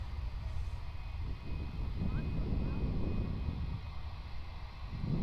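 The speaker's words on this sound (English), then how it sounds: "It's going to be lining up here, so we'll get a nice head-on shot of the Virgin Australia Airbus" Virgin Australia Airbus A320-200 lining up for takeoff at Perth Airport, a steady low engine rumble from a distance, fairly constant throughout with slight swells.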